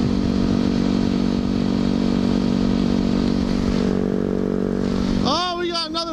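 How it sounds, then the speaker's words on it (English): A Harley motorcycle rides close behind, its steady engine drone filling the whole stretch alongside the rider's own bike noise and wind, then shifting as a rising, wavering rev near the end. "Oh, we got another bike behind us and I hate it."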